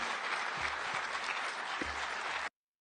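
Sustained applause fills a football federation assembly, a dense, steady wash of clapping from a large crowd that holds at even loudness for a couple of seconds before cutting off abruptly.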